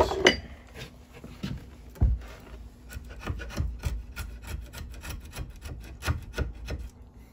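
A dull draw knife rasps and scrapes along wood while a single-bit Craftsman axe handle is being shaped, a series of uneven rubbing strokes with small knocks in between, close and moderately quiet with no talk.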